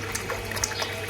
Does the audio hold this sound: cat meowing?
no